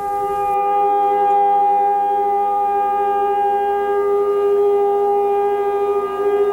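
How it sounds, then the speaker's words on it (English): A loud, sustained siren drones on a steady pitch, filling the air alone without interruption, as sirens wail across Israel, including Jerusalem. "It was the sound of sirens wailing, not just in Jerusalem, but across Israel."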